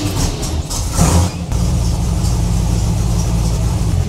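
An engine filled with 20W50 gear oil cranks and catches, then settles into a loud, steady cold idle with a continuous low rumble.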